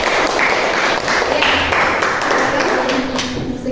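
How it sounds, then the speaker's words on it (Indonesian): A classroom of students claps for a group after a chemistry lesson presentation, a steady, fairly loud patter of many hands lasting a few seconds without speech. "Tepuk tangan untuk kelompok."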